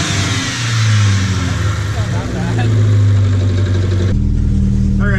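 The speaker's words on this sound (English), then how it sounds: "As you can hear, the new straight pipe." A Volvo wagon fitted with a new straight pipe exhaust revs loud and close, its deep rasping engine note rising and falling before settling into a steady drone.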